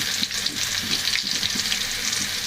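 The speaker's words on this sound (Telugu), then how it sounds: "ఈ ఉల్లిపాయ, వెల్లుల్లిపాయ, అలాగే ఎండుమిరపకాయలు, కరివేపాకు ఆయిల్లో ఫ్రై అయ్యి మంచి స్మెల్ వస్తుంది." Onion, garlic, dried red chillies and curry leaves sizzle steadily in hot oil in a pan for chicken sherva, a continuous close crackling fry with faint stirring scrapes and no talk.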